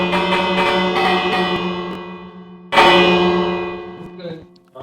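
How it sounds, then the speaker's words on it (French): A bell rung in the Minecraft video game, struck twice with bright metallic clangs that decay slowly with long ringing overtones, loud and close, with a faint voice near the end. "La cloche, ce sera notre sonnette."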